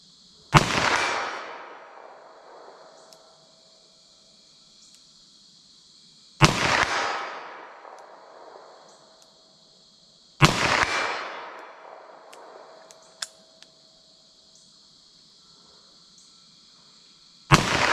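Four sharp gunshots from a revolver firing Buffalo Bore .32 H&R Magnum +P ammunition at distance, spaced several seconds apart outdoors, each a loud crack with a lingering echoing tail, over a steady high insect-like hiss.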